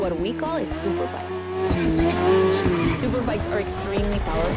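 Loud, close engine note of a 2015 BMW S1000RR superbike accelerating, the pitch sweeping up and shifting through several quick changes in a few seconds.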